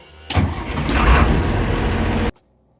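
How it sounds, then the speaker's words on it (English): An International FedEx delivery truck starts up close by, its engine catching with a loud, rough roar that holds for about two seconds before cutting off abruptly. "so this truck is very loud."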